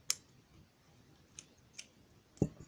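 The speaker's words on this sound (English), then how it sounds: "And then I will cut at the bottom here." Scissors snip through crochet yarn, giving a few sharp, close clicks spread apart and ending in a louder, fuller cut, all quiet and without speech.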